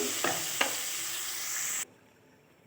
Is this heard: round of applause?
no